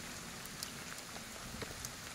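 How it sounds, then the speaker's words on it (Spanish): Steady, faint rain falls in Ghostwire: Tokyo, a soft, even patter with small drip ticks scattered through it, heard alone with no voices. "ya empezó a llover otra vez"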